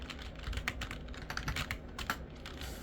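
Steady, fast typing on a computer keyboard, with close, crisp key clicks in an uneven rhythm throughout and no voice.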